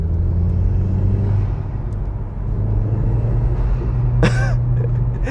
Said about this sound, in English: I've got a ram air induction kit, so every now and then you may just hear a